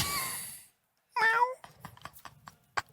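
A person imitates a cat with a few drawn-out meows, one long call then a shorter stretched one, close and fairly quiet, followed by soft breathy noises and light clicks.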